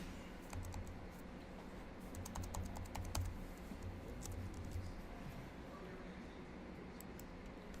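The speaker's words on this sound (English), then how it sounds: "I start to fill this out, so I'm going to put in Jeff" A computer keyboard being typed on to fill in a web form, with quick bursts of soft clicking keystrokes and a few pauses, faint and close, alongside someone talking.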